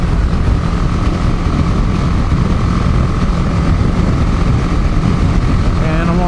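A BMW G310GS motorcycle being ridden toward the city, its engine drone a steady, loud roar mixed with heavy wind rush throughout, with no clear breaks.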